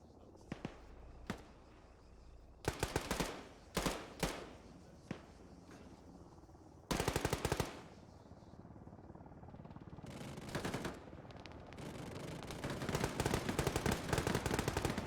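Machine gun fire from a BRDM gunner in the ArmA 3 military game, loud bursts of automatic fire at irregular intervals, some short, some sustained, with scattered single shots and a long rattling barrage near the end.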